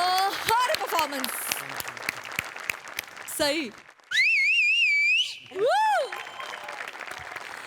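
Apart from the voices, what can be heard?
loud audience applause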